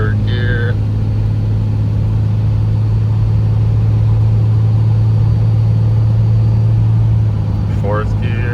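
A diesel truck with a triple billet 48RE transmission pulling hard, a loud steady engine drone with a low constant hum, while a person talks over it throughout.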